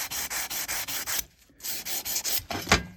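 Sanding stainless steel trim with 600 grit sandpaper: a run of quick, even back-and-forth rubbing strokes, a short pause, then more strokes ending in one harder scrape, close and fairly loud.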